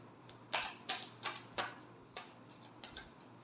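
Tarot cards being shuffled by hand: a series of crisp, close riffling snaps, four quick bursts and then a few softer ones, in a quiet room.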